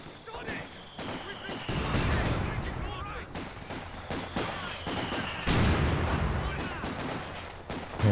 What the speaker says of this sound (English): Mortars flying both ways again.